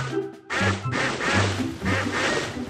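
Ducks in the underwater video game Tasty Blue quack in a quick series of loud, nasal calls, several overlapping close together with no talking.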